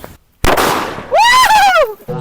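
A firecracker goes off with a sudden loud bang and a short crackling burst, followed by a voice.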